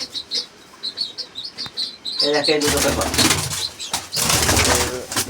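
Black Lotan pigeons coo and chirp close by, with bursts of wing flapping and rustling, while a person talks over them.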